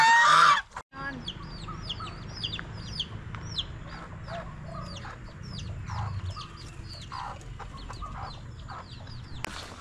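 Chickens at a village-style farm zoo in Phatthalung, Thailand, cluck and chirp in a busy, continuous chorus, opening with one loud nearby squawk before softer scattered calls fill the yard.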